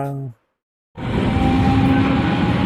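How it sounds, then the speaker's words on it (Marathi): Inside an air-conditioned local train on a Lonavala-area suburban line, a steady, loud rumble of the moving carriage starts abruptly after a brief silence and continues without pause. "शमिता जी पहली बार आप एसी एसी लोकल से सफ़र कर रहे"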